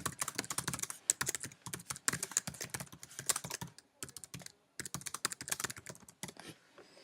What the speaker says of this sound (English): and then type